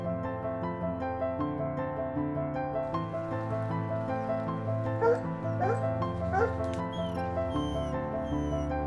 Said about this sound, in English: The dogs this morning seemed patient as Ryan continued to check the baits.